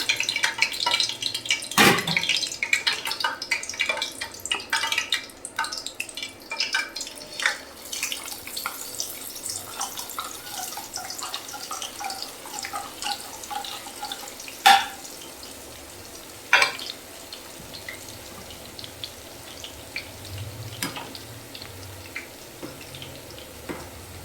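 Boondi batter for laddu frying in hot oil, a steady soft sizzle with scattered light crackles and a few sharp ladle taps near the pan, no talking.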